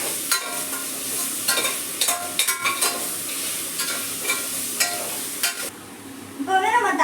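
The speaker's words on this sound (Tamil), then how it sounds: "இப்போ வந்து நம்ம தக்காளி நல்லா கிண்டிக்கணும்." A spoon stirring tomatoes in a hot frying pan, producing repeated close scraping strokes over a constant sizzle, with a few louder clatters, the scraping stopping near the end and a faint voice coming in at the close.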